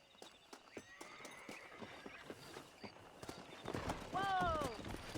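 Horses in the Red Dead Redemption video game: rhythmic hoof clip-clops on the ground, then a loud whinny near the end, with faint voices in the background.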